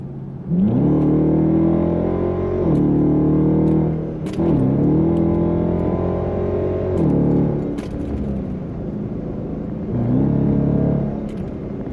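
Car engine fitted with a Roar throttle pedal revving hard through several acceleration pulls, each a loud rising roar that drops off before the next surge.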